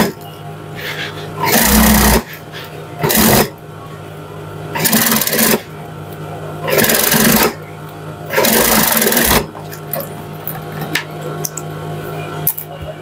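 Sewing machine stitching a trouser hem in short repeated bursts of loud whirring, five or so separate runs with pauses between them, each under a second or two long.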